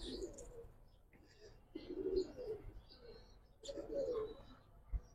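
Giribaz pigeons coo in soft, low, rolling bursts, three main phrases spaced a second or so apart, near and quiet, with faint chirps from other birds behind them.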